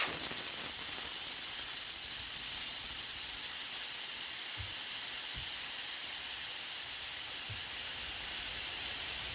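A car tire deflates through a broken-off valve stem in a steady, continuous hiss of escaping air, close and even throughout, with a few faint knocks underneath.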